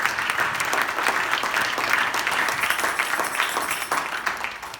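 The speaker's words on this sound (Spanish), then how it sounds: "Den un aplauso al Señor por él." A church congregation applauding during a Spanish-language Bible study service: a full, sustained round of clapping with crisp, uneven hand strikes and a slight swell and fade.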